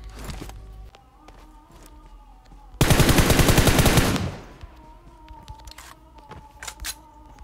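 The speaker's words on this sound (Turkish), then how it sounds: "Bak bak Merve'yi vurduk, gel bakayım" PUBG Mobile gunfire in a heavy-weapons mode: one loud rapid automatic burst of about a second and a half, with soft footsteps and game sounds before and after.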